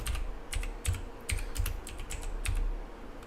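Typing on a computer keyboard, a close series of irregular key clicks and thumps, some in quick bursts, over a quiet room with no voices.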